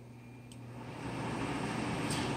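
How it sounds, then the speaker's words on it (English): A pellet stove's convection blower fan hums and whooshes, rising steadily in loudness and pitch as it spins up, broadband and continuous, with no talking. "the blower itself on my stove in the background makes a louder noise to tell me that it's spinning faster"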